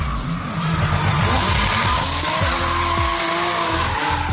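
Drift race car sliding with loud, continuous tire squeal over a roaring engine, close and steady throughout with no talk.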